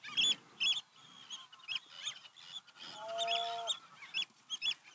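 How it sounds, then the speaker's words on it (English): Geese honking repeatedly in loud, clustered calls near at hand, with sharp bursts spread across the stretch and a brief lower, steadier tone partway through. "Those birds."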